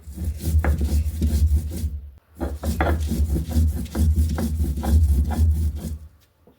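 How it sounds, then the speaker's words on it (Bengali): Chillies are ground on a stone slab with a grinding stone (shil nora), a close, loud rhythmic rasping and rubbing of stone on stone. It pauses briefly partway through and then resumes, with no talking. "ঝালগুলো ভালো করে বেটে নিচ্ছি।"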